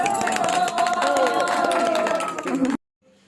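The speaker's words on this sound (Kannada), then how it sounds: "ಎಲ್ಲರೂ ಚಪ್ಪಾಳೆ ತಟ್ರಿ ಜೋರಾಗಿ" Guests at an anniversary celebration clap and cheer together in a lively, dense burst of hand claps mixed with crowd noise and chatter, which stops abruptly.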